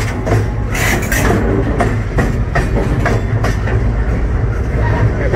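A loaded freight train of tank cars rolls past close by, its heavy wheels clattering over rail joints in a steady, loud rumble with repeated clicks.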